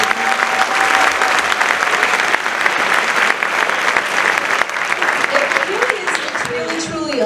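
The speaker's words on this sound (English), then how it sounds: "So can we please give the upperclassmen a round of applause?" A high school orchestra concert audience applauds the upperclassmen with dense, sustained clapping that stays loud and steady for several seconds before thinning out, with a few voices and a faint tone showing near the end.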